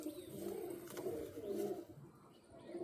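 A pigeon coos in soft, low repeated phrases close by, three rounded rolling calls with a faint background hiss.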